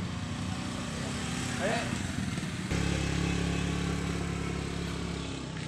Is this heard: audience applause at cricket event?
no